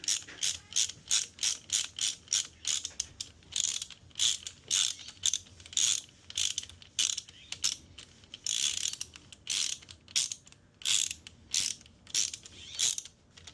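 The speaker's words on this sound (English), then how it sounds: "I'll grab a 10mm socket and bottom that out." A ratchet fitted with a 10mm socket tightens bolts on a 2007 Ford Mustang 4.0 engine, giving repeated bursts of sharp clicking, some quick runs and some slower strokes, close and clear with no talk.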